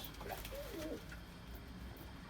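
Tumbler pigeons at the Edirnekapı bird market give a few soft, low coos early on against a murmuring market background, then fade under the ambient noise.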